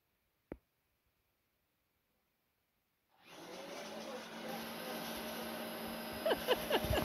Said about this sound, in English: Push the vacuum.